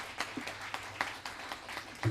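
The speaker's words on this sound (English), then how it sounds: "let's give our young people a huge, huge round of applause" A short, modest round of applause at an elementary school bicycle giveaway, scattered claps from a small crowd, fairly faint and uneven, with a couple of sharper claps standing out.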